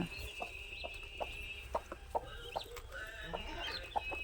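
Soft, scattered clucks from a country hen over a steady background hum, with faint higher peeps from her 13 chicks nearby.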